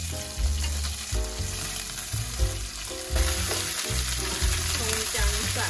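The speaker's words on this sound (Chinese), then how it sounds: "加辣椒酱。 先炒它的香味。" Scallion, ginger, garlic and onion stir-fried with chili sauce in a wok, sizzling loudly and steadily with scraping stirs and clatter throughout, part of a Taiwanese braised beef dish.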